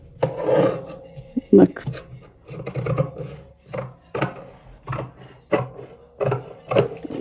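Scissors cut lining fabric around a pocket piece for a clutch bag, with repeated close rasping snips and rubbing at an uneven pace, and someone briefly speaks.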